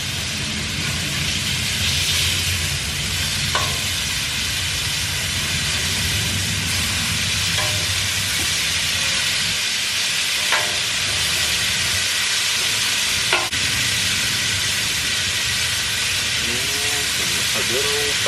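Smash burgers sizzle on a Blackstone griddle, a steady loud hiss throughout with a few faint clicks and scrapes of the spatula, while someone talks quietly under the noise.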